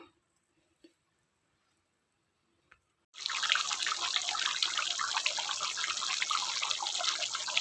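A few faint ticks, then a loud, steady rush of bubbling liquid starts abruptly and continues, a pot of country chicken curry gravy boiling vigorously up close.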